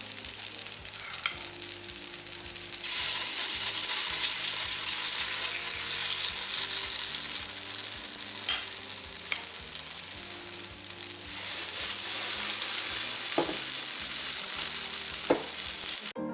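Salt cod fritter batter fries in a pan with a continuous, close hiss and scattered small pops and crackles that swell and ease over time.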